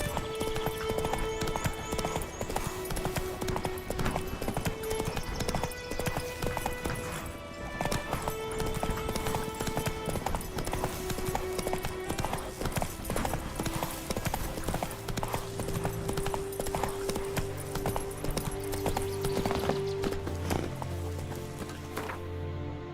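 Roach the horse galloping in The Witcher 3, a fast rhythmic clip-clop of hooves that runs throughout, with occasional snorts and game music and ambience underneath.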